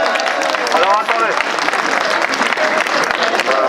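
Crowd applause at a protest by Chambéry city workers, sustained clapping with voices and shouts mixed in throughout, fairly loud and close.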